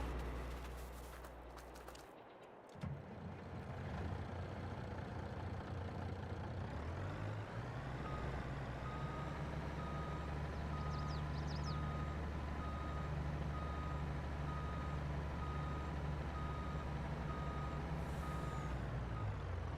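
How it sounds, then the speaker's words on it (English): In Farming Simulator 22, a truck engine idles and revs while a steady reversing beep repeats in a regular rhythm, with a hiss of air brakes early on. "I'm going to move our truck back down."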